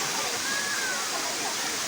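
Waterfall at a swimming spot, a dense steady rush of falling water filling the whole moment, loud and continuous with no clear voice over it.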